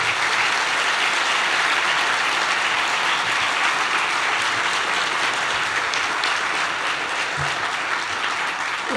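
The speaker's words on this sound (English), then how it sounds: "we owe our maintenance and grounds crew a big round of applause" Loud, sustained applause from a large university audience at a State of the University address, steady clapping filling the whole stretch without anyone speaking.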